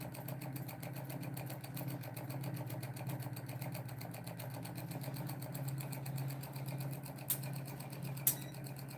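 A pulse motor with a 12-pole rotor in a north-south magnet arrangement spins up, giving a steady fast mechanical whir with a low hum, fairly constant and close, with a couple of brief clicks near the end.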